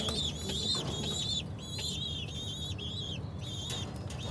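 A pair of Homa pigeons cooing, with soft, repeated coos and warbling calls close by over a low, busy background hum.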